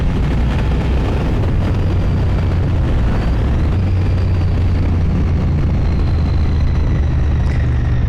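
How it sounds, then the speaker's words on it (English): A Royal Enfield Bear motorcycle engine rumbles while riding on an open road, loud and continuous, heavily mixed with blustery wind roar throughout. "listen to the engine, all of the mechanics of the bike"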